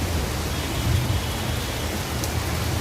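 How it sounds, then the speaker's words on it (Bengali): Heavy rain pours down in a dense, steady hiss with a low rumbling undertone, constant and close, with no voices. "এই যে অনেক বৃষ্টি হচ্ছে"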